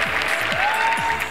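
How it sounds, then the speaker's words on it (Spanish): Applause ringing out as the portrait of a former first lady is unveiled, a steady wash of clapping with a faint tone and low thumps beneath it. "El retrato de la ex primera dama, pintado por Amy Sherald, despertó la mayor ovación."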